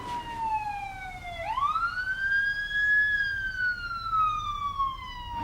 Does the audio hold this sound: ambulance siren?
yes